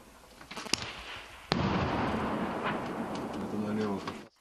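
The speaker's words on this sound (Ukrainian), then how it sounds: "О, РПГ." Rocket-propelled grenade fire during fighting in eastern Ukraine: a sharp blast cracks out mid-clip and rolls into a long, loud rumbling roar, following an earlier smaller pop, with voices speaking beneath the noise.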